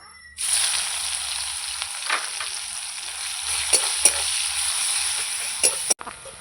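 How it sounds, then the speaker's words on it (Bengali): Onion sizzles and crackles steadily in hot oil in a pan for a mutton curry, a loud, even frying hiss with occasional sharp pops and spatters, no voices. "পেঁয়াজটা আমি ভেজে নিয়েছি"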